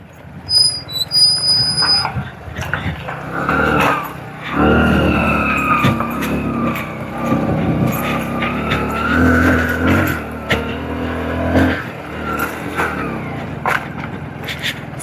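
A Hero Splendor motorcycle labours off-road on a steep mountain track, its small engine revving and straining in uneven surges, loud and close, with wheel scrabble and rough knocks mixed in.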